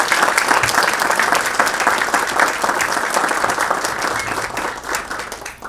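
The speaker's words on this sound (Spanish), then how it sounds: "Por favor, recibámoslos con un aplauso." A conference audience gives sustained applause welcoming two speakers, a dense, steady roar of many hands clapping at close range that tapers slightly near the end.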